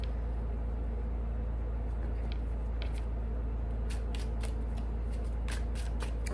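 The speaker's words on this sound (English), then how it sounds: "I'll shuffle it like this and then we'll split it." A tarot deck is shuffled by hand, giving close, crisp bursts of card riffling and flicking over a steady low hum, and they grow busier toward the end.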